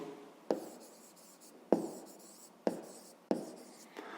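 Pen strokes of a digit being written by hand on paper, several distinct scratchy strokes each starting sharply and trailing off, close and alone with no talking.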